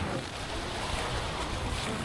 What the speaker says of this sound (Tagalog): Maalon-alon sa labas, alon-alon sa likod.